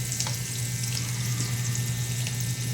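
Garlic sizzling in a hot pan of oil for a shrimp-and-garlic dish, a steady close hiss with faint scraping, no voices.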